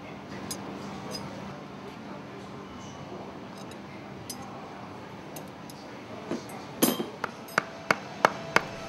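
A hammer drives a piston into the air cylinder of a MAN B&W MC engine through a piece of wood, first as faint taps over a steady mechanical hum and then as a run of sharp, regularly spaced blows near the end.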